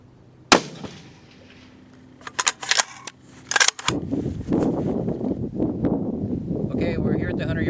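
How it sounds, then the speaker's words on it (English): A rifle fires at a 100-yard outdoor range. One loud, sharp report comes first, then a cluster of impulsive bangs a couple of seconds later, followed by wind and voices talking. "I'm going to shoot 3 more rounds."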